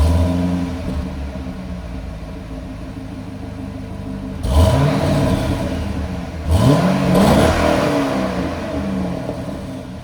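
Stock Corvette C6 engine idling quietly with a low steady rumble, then two short revs about two seconds apart that swell and fall away, with no talking.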